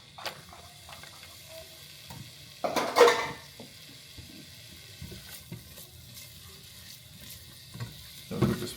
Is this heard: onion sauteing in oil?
yes